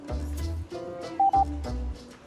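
A mobile phone gives a short two-beep SMS alert, two clipped electronic tones in quick succession over a soft musical background in a TV comedy scene.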